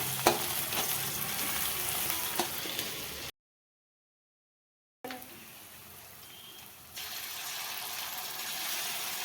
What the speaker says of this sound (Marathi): मग टाकलंय मी आलं लसणाची पेस्ट परतून घेते